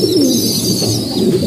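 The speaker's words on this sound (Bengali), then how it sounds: "তারপরে আছে আমাদের খাকি কবুতর" Pigeons in a loft cooing softly and steadily at close range, a continuous low throaty murmur with no talking.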